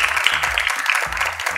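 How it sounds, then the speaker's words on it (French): An audience applauds slam poet Soro Fatouma at a televised show, a dense, steady wash of clapping that fills the whole moment with no pauses or standout voices. "qu'on peut applaudir encore une fois cette ravissante jeune dame"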